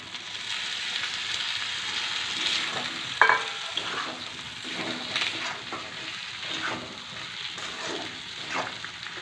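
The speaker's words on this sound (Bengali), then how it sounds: "তা দেখুন মশলা থেকে কিন্তু তেল ছেড়ে দিয়েছে। আমি এর মধ্যে দিয়ে দিচ্ছি ভাজা আলুগুলো।" Fried potatoes tipped into hot spiced oil in a pan, giving a steady close sizzle with stirring clatter and a brief sharp clink partway through, no voices.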